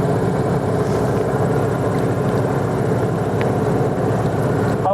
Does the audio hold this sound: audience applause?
no